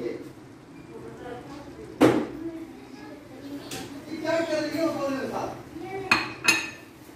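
Potato and eggplant curry served out of a pot with a metal spoon, a few sharp clanks against the pot's rim and softer scraping and clinking, with quiet pauses between strokes.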